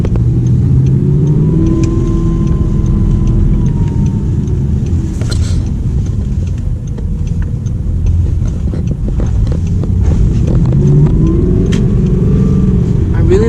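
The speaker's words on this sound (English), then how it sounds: "I really like the sound, the way the engine sounds. Like it's very throaty and nice and loud." Audi R8 with a V8 engine revving and accelerating, a loud, throaty roar sustained throughout with rising and falling pitch sweeps, close by, with people talking over it.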